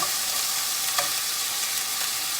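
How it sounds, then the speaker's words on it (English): Thin-shaved steak frying in a pan for Philly flatbread, a loud, even, continuous sizzle close up with a faint scrape or two and no voices. "Now it's cooked thin, so this steak doesn't take long to actually cook"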